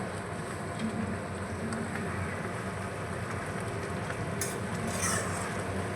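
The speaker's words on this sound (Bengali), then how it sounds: "ভালো করে আমি একটু নাড়িয়ে নেব এইভাবে" Papad curry cooking Rajasthani style in a pan, a steady stir and simmer with a dense continuous sizzling bubble throughout, plus a couple of faint scraping touches near the end.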